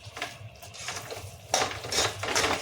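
Metal spoon scraping and clanking in a pan while three packets of Maggi noodles are mixed with masala, several sharp close clatters over a low background hum.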